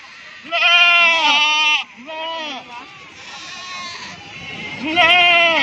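Several loud, wavering goat bleats up close at a livestock market in Gudur, in bursts separated by short gaps, with a quieter bleat in the middle and farmyard background noise.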